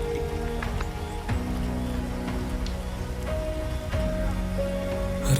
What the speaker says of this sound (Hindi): और अब ये बारिश